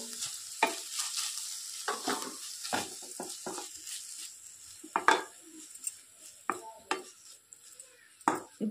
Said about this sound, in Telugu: ఇలా ఫ్రై చేసిన తర్వాత కొంచెం ఫ్రై అయిన తర్వాత తురుముకున్న పన్నీర్ను కూడా ఇందులో వేసుకుంటున్నాను.